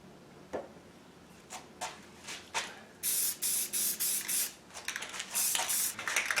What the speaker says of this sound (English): a spray can just makes this fast